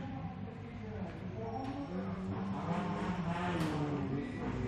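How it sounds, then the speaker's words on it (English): Rally car engines at a gravel rally rev and roar in a steady, continuous drone, rising and falling slightly, with faint voices beneath. "we can hear the cars revving"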